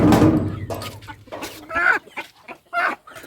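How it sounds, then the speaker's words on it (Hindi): Rhode Island Red roosters and a Black Australorp cluck and squawk nearby in uneven bursts, several short calls overlapping with brief gaps between them. "हमारे दोनों RIR मुर्गे और ये हमारा ब्लैक एस्ट्रोलॉप"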